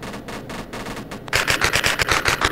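Rapid bursts of gunfire from a Roblox zombie game, a steady string of sharp shots after a quieter stretch, close and loud with no talk over them.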